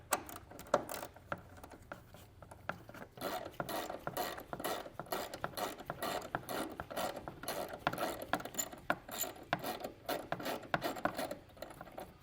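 Ratchet wrench with a 10mm socket loosening a bolt during a trailer hitch installation on a 2022 Jeep, giving a fast, continuous series of close, crisp clicking pawl sounds with no talking.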